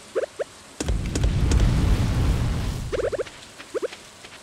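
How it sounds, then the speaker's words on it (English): Stardew Valley rainstorm: a rumbling surge of thunder over steady rain, framed by short bursts of bright, repeated chiming game sounds before and after. "It's raining? It's thundering and shit."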